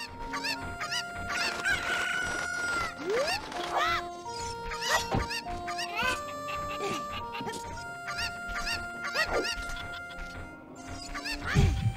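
Chickens cluck and a rooster crows in The Legend of Zelda: Ocarina of Time, with repeated game-style fowl calls layered over steady background music and a sharp squawk at the end.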